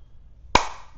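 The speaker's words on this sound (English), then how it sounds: "Why are you clapping so much?" One sharp, close hand clap standing alone in a quiet room, with a short ringing tail.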